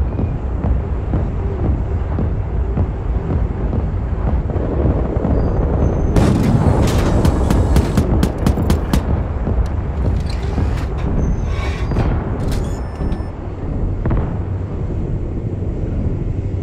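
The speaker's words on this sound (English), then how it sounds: "Be advised, our artillery is commencing fire." Artillery fire in the video game World War 3 during a tank multiplayer match: a cluster of sharp booms and crackling blasts over a constant windy roar, densest in the middle stretch.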